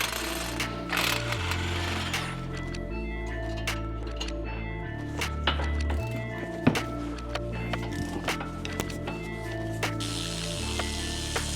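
Socket work on the wheel hub bolts of a Land Rover brings a continuous rapid mechanical rattle with shifting low tones, close up and steady, with scattered sharp metallic clicks and knocks over it.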